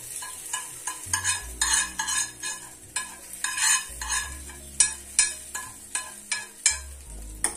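Hot oil tempered with asafoetida and mustard seeds sizzles softly while a spoon stirs and scrapes in a quick, regular rhythm, close by and with no talking.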